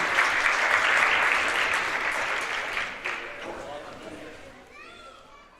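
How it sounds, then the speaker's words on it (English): Crowd applause in a high school gym at a girls basketball senior night for the Union City Lady Bears, loud sustained clapping that gradually tapers off amid chatter. "One more round of applause"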